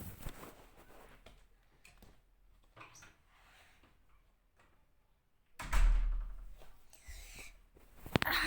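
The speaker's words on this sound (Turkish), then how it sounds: "Hemen ben kapıyı kapatayım bekleyin." A door is closed indoors, giving one loud dull thud that follows several seconds of quiet shuffling and small knocks, with a few light clicks afterward.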